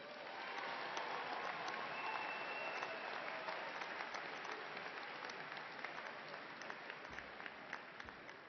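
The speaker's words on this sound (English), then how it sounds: "Please honor these graduates with a round of applause." Audience applause for graduates at a university commencement ceremony, sustained dense clapping from a large crowd in a big hall, steady and even, tapering slightly toward the end.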